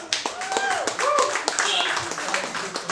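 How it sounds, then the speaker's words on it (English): A comedy night audience gives a short round of clapping, crisp hand claps close by mixed with voices talking over it. "Give yourselves a round of applause."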